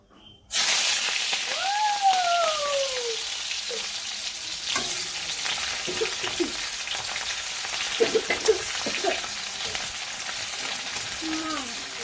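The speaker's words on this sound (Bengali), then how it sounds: "তেল দিয়ে দিছি এর মধ্যে পেঁয়াজ আর কাঁচামরিচ দিয়ে দিই" Onions and green chillies fry in hot oil, a steady close sizzle that starts abruptly and holds throughout, with occasional stirring clinks and faint background voices.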